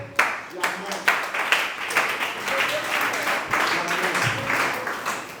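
A church congregation at the CILCA & MICN 2025 prophetic gathering claps and cheers, with sharp bursts of applause and loud shouting voices throughout.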